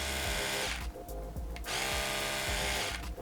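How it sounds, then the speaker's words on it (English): An Oral-B Vitality electric toothbrush motor buzzes loudly and steadily, up to 65 decibels, briefly dropping in intensity midway before resuming its continuous whirring hum. "The noise that this toothbrush generates is up to 65 decibels"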